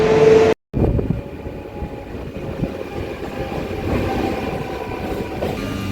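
Night local train running from Kharagpur toward Howrah, a steady rumbling roar of the carriage with faint clatter throughout, briefly cut to silence near the start.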